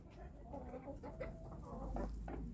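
Chickens cluck softly outdoors in mud during a winter thaw, over a low, steady rumble of background noise, the calls faint and intermittent.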